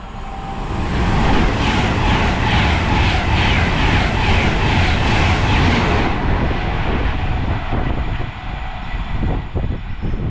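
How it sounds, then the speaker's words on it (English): An Avanti West Coast express racing through a station northbound, a loud sustained roar and rush of carriages that fills the first six seconds before easing into a fading rumble with rhythmic wheel clatter. "passing through, we've got a Avanti West Coast service heading north"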